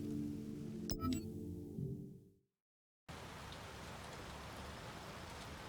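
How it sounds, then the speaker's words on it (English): Heavy rain in Tron: Identity pours as a dense, steady wash of noise, broken by a short silent gap before resuming just as loud; a few tonal game sounds ring out early on. "The rain is deafening now"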